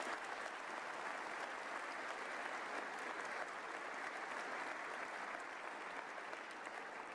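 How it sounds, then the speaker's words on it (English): Sustained audience applause fills a state address hall, a dense, steady wash of clapping from a large crowd that holds at an even level throughout with no voices over it. "a big round of applause for all them."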